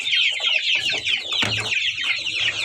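Newly hatched Kuchinsky chicks cheep in a dense, continuous high-pitched chorus close by, with hens clucking low beneath them.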